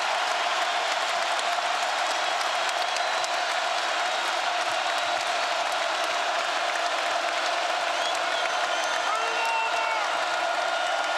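A basketball arena crowd at a college game in Lawrence, Kansas, cheers and applauds in a close one-point game against UCF, forming a dense, sustained roar throughout.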